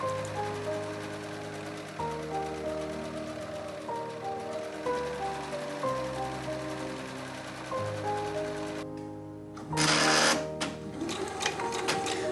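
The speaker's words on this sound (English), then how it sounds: "I also serge around the pocket pieces and the outer edges of the dress panels." A serger overlocks the edges of pocket pieces and dress panels, humming steadily with a rhythmic mechanical chatter and a few brief pauses, then ending in a louder burst of clatter near the close.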